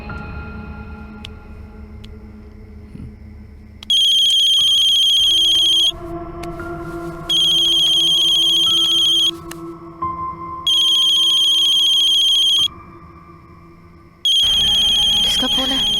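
A loud electronic phone ringtone plays in repeated bursts of about two seconds with short gaps, over quiet background murmur.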